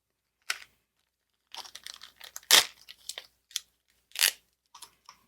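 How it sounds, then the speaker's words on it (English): Colored cardstock pressed onto a handmade greeting card with glue dots, giving short crinkly paper rustles and peeling taps in scattered bursts, close and quiet against silence. "let's first add the color cardstock that we just cut by using the glue dots"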